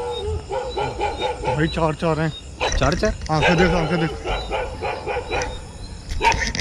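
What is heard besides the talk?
dog barking at night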